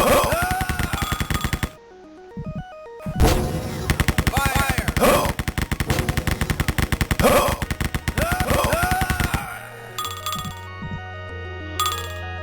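Rapid automatic gunfire shooting robots in a Wolfenstein mod video game, long bursts of loud, fast shots with short pauses, then a few electronic game tones and sparser shots at the end.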